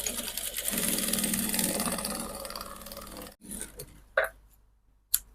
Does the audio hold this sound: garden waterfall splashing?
no